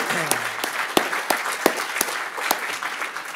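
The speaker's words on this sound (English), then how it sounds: "a big round of applause for the Linux Foundation event staff" Applause from a conference audience for the event staff at an embedded Linux closing session, a steady crackle of many hands clapping close by with a few sharper individual claps standing out, no voices over it.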